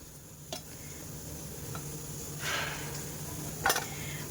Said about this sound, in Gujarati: આ બધાને આપણે ડુંગળી જોડે જ એડ કરી દઈશું।